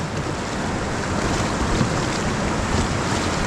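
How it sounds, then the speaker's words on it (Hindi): Rushing Ganges river rapids during a rafting run, a steady broadband roar of churning water and wind, loud and unbroken throughout. "अब ये लास्ट रैपिड आ रहा है, रैपिड का नाम है हिल्टन।"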